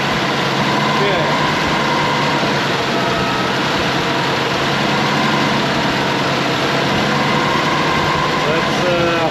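A 1986 Mazda B2000 with a leaking head gasket idles steadily, a loud continuous engine drone with a faint whining tone running through it.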